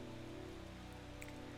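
Steady rain ambience from the video game Strange Horticulture, a soft continuous patter held at an even level under low sustained music tones, with a few brief brighter drips near the end.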